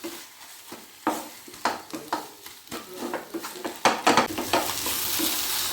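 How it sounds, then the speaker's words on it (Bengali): Bhetki fish pieces being stirred into mashed potato in a hot pan, with a steady sizzle under repeated scraping strokes of a spoon against the metal, close and fairly loud. "আলুর সাথে মাছগুলোকে একটু ভালো করে মিশিয়ে নিচ্ছি এই সময়।"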